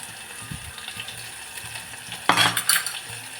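A spoon stirs red chilli powder into farali kadhi in a pot, with a low sizzle under soft scraping and a louder clattering swirl of stirring near the end, close and without speech.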